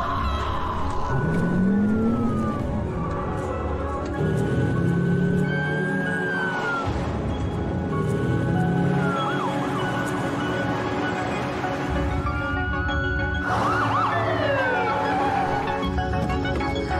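Wailing ambulance siren from a paramedic simulator video game, rising and falling sweeps that repeat across the stretch at steady loudness, with game sounds and music-like tones layered around it.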